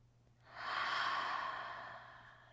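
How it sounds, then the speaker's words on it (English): One deep, slow exhale during a baby and mommy yoga session, a breathy whoosh that swells quickly, lingers, then fades gently, close and quiet with no talk. "One more breath."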